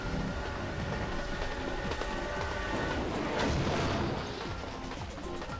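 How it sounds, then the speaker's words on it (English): Train noises in the video game Cargo! The Quest for Gravity: a dense continuous rumble with metallic clanks and crashing hits, loud and steady throughout, swelling briefly near the middle. "we can hear some train noises there, despite the fact that there are no engines or indeed tracks"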